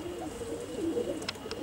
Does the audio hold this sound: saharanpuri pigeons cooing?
yes